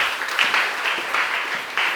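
Audience applause during a Christian church sermon, a steady wash of clapping with a few louder surges, sustained throughout and moderately loud.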